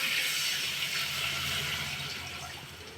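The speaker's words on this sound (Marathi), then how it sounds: "आता पाणी टाकायचं आहे" Water is poured into a cooking pot of green chilli and red chilli powder for a shengole curry, a loud, steady rushing splash that fades slightly toward the end.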